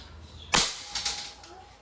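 A Gamo Magnum break-barrel air rifle fires a lead pellet with one sharp, close crack, followed by a couple of lighter metallic taps as it strikes a tin can target.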